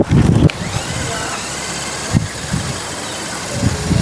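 High-speed remote control off-road monster truck dirt tracker running laps on loose soil, a whiny small electric motor buzz rising and falling, with brief bursts of close speech and handling noise.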